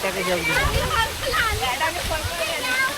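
A small monsoon waterfall at Devgad in Konkan gives a constant rushing wash of falling water, loud and near, while people's voices carry over it.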